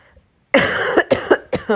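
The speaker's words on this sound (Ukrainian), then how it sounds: "кашляю страшно." Three harsh, close coughs in quick succession after a short quiet pause, raspy and loud.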